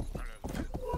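Horse hooves clip-clopping in the video game Rustler, a few soft, evenly spaced thuds in the foreground, with a faint voice in the background.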